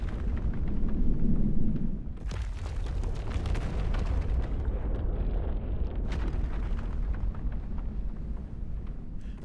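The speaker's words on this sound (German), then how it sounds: "In mehreren Ausbruchsphasen wird dieser erweitert." A volcanic eruption sound effect plays in an app animation of a Vulkaneifel volcano: a continuous loud, dense rumbling roar with crackling bursts that holds for the whole stretch, with no voices.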